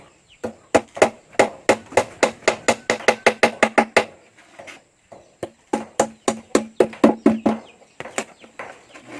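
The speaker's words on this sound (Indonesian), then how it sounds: "Kemudian sebelah di sini dengan di sini kita lantak paku." A hammer drives nails into a wooden bee box in two fast runs of sharp, evenly spaced knocks, close and loud, with a short pause between the runs.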